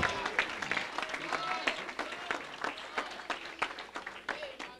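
A church congregation claps in praise to the Lord during worship, with rhythmic, uneven applause mixed with voices and what sounds like sung or shouted praise underneath.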